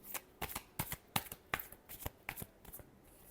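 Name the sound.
shuffling tarot cards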